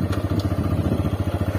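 TVS Raider motorcycle started by push button, its small engine settling into a steady, pulsing idle thrum that carries close and moderately loud throughout.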